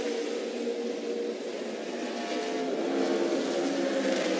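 Pickup trucks roar together at a restart in a NASCAR truck race at Texas, a dense sustained engine drone building steadily in loudness with no pauses.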